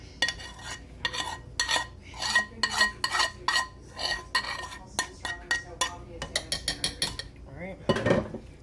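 A utensil scrapes browned bits off a pan while chili with corn cooks, in a quick series of rasping strokes with short pauses, ending in a louder clattering scrape.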